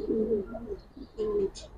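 A female silver-pattern, big-necked pigeon gives two soft, close, throaty coos separated by a brief pause.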